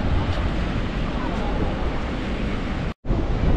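Strong wind blasts across the open sands of Bakkhali sea beach, a loud, continuous roar buffeting the microphone with the surf mixed in. It breaks off in a momentary cut near the end.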